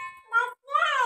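A house cat meows twice in a village home kitchen where fish is being cooked, two clear, drawn-out tonal calls close by with a short pause between them.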